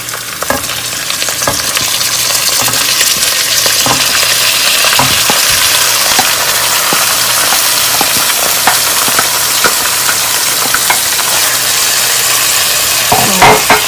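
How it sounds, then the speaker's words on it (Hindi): Minced meat (keema) frying in a pan for a keema biryani gives a loud, steady sizzle throughout, with irregular scraping knocks as it is stirred. "कीमे को हम जब तक फ्राई करेंगे जब तक इसका कलर चेंज नहीं हो जाता"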